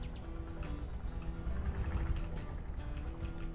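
A pickup truck in the farming game Ranch Simulator, its engine sounding like a quad bike, holds a steady low droning hum throughout with no change in pace.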